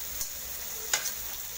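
Beef papaitan with liver cooks in a pan, giving a faint, steady sizzle broken by a couple of brief stirring scrapes.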